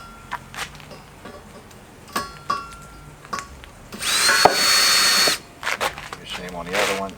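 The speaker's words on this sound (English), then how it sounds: "just running a 1/2 inch drill across the top of it to kind of clean that up" A half-inch electric drill whines in a sustained burst for about a second and a half while deburring the edge of metal on a wagon build, set between clicks, handling noises and someone talking.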